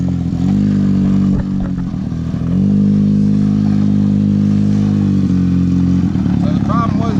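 A Suzuki 50cc quad's small engine runs steadily after a carburetor rebuild, a loud, even buzzing idle nearby with slight rises in pitch and some clatter, and a voice faintly audible near the end.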